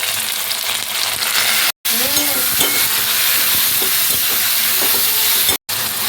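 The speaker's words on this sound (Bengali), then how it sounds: "দিয়ে দেবো আদা রসুন বাটা লঙ্কা বাটা টমেটো পেস্ট" Ginger garlic paste, chili paste and tomato paste fry loudly in hot oil in a pan for masoor dal, a steady close sizzle with stirring scrapes and two brief cuts to silence.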